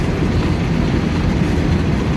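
A train at a railway station in Sochi produces a dense, constant low rumble, loud and close, with a steady broadband roar and no breaks or voices.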